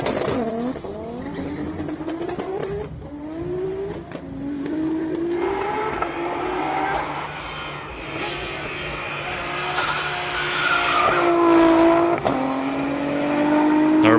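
A turbocharged race car engine at a hillclimb shootout revs hard and climbs through rising pitch sweeps, with tyre noise and a crowd or commentary underneath, staying loud and close throughout.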